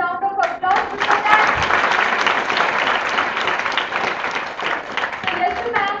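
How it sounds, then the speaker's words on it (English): Sustained applause from a conference audience at a medical meeting's awards announcement, dense steady clapping filling the whole stretch with a few voices cutting through near the start and end. "So can we have a huge round of applause for that?"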